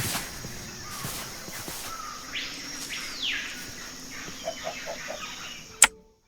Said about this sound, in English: you can hear like some bugs and some birds in the background, just adding some ambience to the world